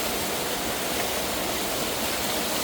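A waterfall on a solo backpacking trail gives a steady, dense roaring rush of water, constant and unbroken, with no voices.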